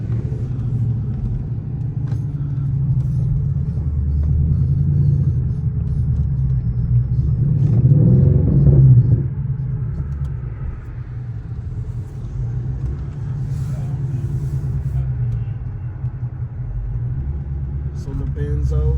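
A straight-piped Infiniti M56 with a 5.6-litre V8 rumbles with a deep, loud exhaust drone that swells into a brief rev in the middle, while people talk over it.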